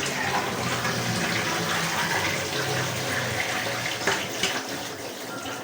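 Glutinous rice is washed in water for landang, giving a steady rushing, splashing water sound with a few sloshes and knocks near the end, close and with no talking.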